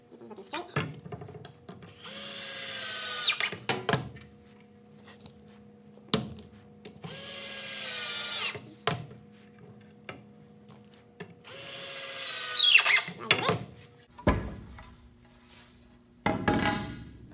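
A power drill drives screws into wood for a pair of stilts in three separate loud bursts of whirring, each a second or two long, with knocks and handling noises in the quieter gaps.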